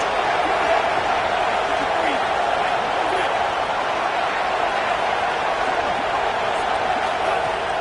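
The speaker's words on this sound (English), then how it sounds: "We knew this crowd would make its presence felt, and they are doing so in a big spot." Stadium crowd roaring steadily in a College Football 27 Miami vs Penn State game, a dense, continuous wash of cheering and noise that stays loud throughout with no break.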